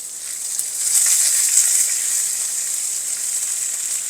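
Small shallots frying in hot oil in a pan for a Kottayam-style breadfruit stir fry, a loud continuous close sizzle that swells briefly and then settles to a steady hiss.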